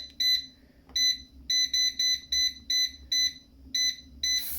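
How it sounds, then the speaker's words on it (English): An air fryer beeps as its temperature is set to 200, giving about ten short, sharp, high electronic beeps in a quick, fairly even series, loud and close in a quiet kitchen. "we're going to pop this in the air fryer, and we're going to put this on 200"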